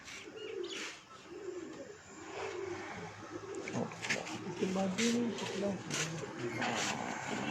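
Chinese pigeons coo repeatedly on a rooftop, their soft low calls recurring through steady outdoor background noise, with occasional chirps and someone talking nearby.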